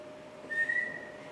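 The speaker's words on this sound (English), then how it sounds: "I've been practicing my whistle." A person whistles a single sustained, steady note lasting under half a second, clear and fairly close over a quiet background hum.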